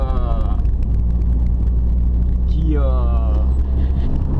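Peugeot 205 Rallye engine with a 4-into-1 Supersprint exhaust and Vilcon tail box runs close and loud, a deep steady rumble with rising revs near the end, under someone talking.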